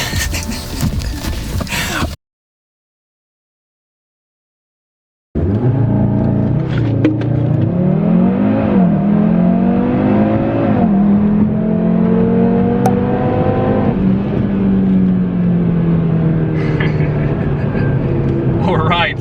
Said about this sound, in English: I love the sound of the engine, has a lot of power, it's very torquey